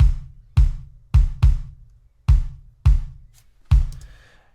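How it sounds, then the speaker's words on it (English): A big, boomy kick drum from an indie pop track hits seven times in an uneven pattern, each punchy low thud decaying into near silence. "The kick here is quite big"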